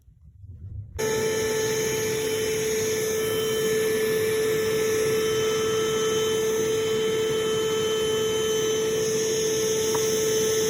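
A vacuum motor runs steadily and loudly after a quiet start, a constant mains-like hum with a strong tonal whine, drawing air through a piece of medical sterilization fabric in a home-made mask filter test with ginger.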